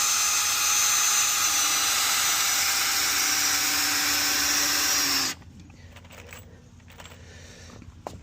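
A power drill drives a screw into a deck board during a DIY deck renovation, running as one loud, steady whine for about five seconds before cutting off abruptly, leaving faint handling noise.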